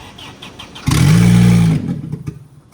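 A 2023 Suzuki Swift fitted with a loud valvetronic exhaust cranks and catches once, giving a single close, loud burst of engine roar lasting under a second before dropping back to a low idle rumble.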